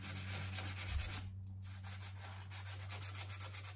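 Steady scratchy rubbing of 180-grit sandpaper wrapped around a sponge over a painted velvet chair, continuous back-and-forth strokes at close range with a constant low hum in the background.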